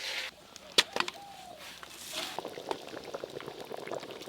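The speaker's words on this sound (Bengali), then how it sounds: "ঝোল কিন্তু একদম এই যে টকবকে হয়ে ফুটে গেছে" Goat meat curry broth bubbling in a pot, with quick popping and gurgling bursts at close range, steady and moderately loud, plus a sharp clatter near the start.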